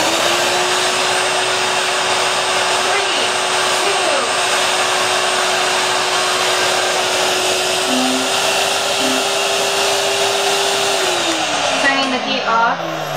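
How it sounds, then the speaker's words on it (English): A vacuum-forming machine's vacuum motor runs loud and steady with a constant whine for the whole stretch, then spins down near the end as faint voices murmur. "turn the vacuum on"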